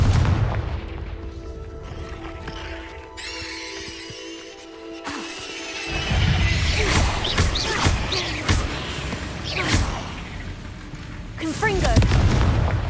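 The Confringo fire blast spell in the video game Hogwarts Legacy goes off repeatedly as booming, crackling bursts in a loud combat scene, mixed with a voice and other game effects.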